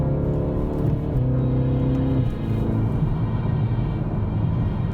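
A 2019 BMW X2 M35i with the brand's most powerful four-cylinder engine pulls hard after a downshift, its engine note climbing steadily into a loud, sustained cabin rumble.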